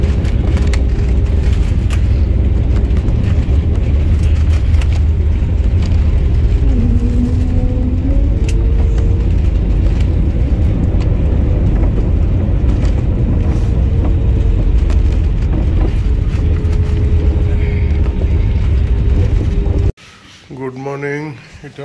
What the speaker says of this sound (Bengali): এবার এই গোয়া এয়ারপোর্টে ল্যান্ড হচ্ছে